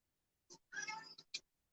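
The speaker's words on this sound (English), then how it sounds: "There goes my cat yelling again." A domestic cat yells and meows up close indoors: a short chirp, then one long, loud drawn-out meow followed by two quick clipped calls, heard alone against silence.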